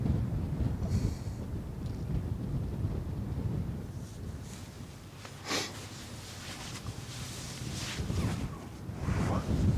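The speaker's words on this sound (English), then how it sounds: "the wind is really, really chilly" Cold wind buffets the microphone beside the Westerschelde waterway, a rumbling, gusting roar that swells and eases for several seconds, with faint background sounds but no voice.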